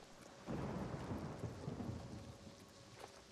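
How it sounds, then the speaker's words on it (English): Thunder rumbles in with a sudden loud onset and rolls on under steady rain in the Oblivion Remastered video game, a single sustained peal that slowly fades across the stretch, with no voices over it. "Thunder! Lightning!"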